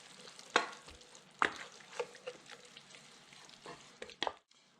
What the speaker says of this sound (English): Cinnamon. Cloves. And stir to combine.